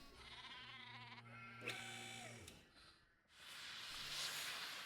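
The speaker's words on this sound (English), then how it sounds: "I would say that is a happy sheep." A sheep in the Nancy Drew game The Haunting of Castle Malloy bleats a couple of drawn-out, wavering calls, followed by a hissing, spraying noise.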